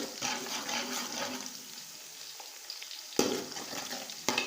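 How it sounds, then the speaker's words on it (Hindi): Garlic frying with onions in a pan for a chicken karahi gives a steady broadband sizzle with soft stirring scrapes, and two sharper bursts near the end; no one speaks. "ये ऐड करेंगे और इनको थोड़ा प्याज के साथ हम फ्राई करेंगे"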